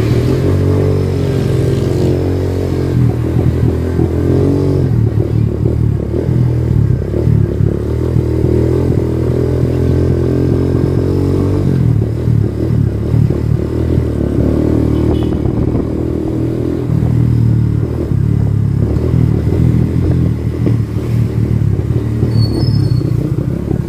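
A Barako 3 Fi motorcycle engine with a misfiring fault runs loud and close, its uneven, sputtering chug pulsing and faltering over about twenty-four seconds with no talking.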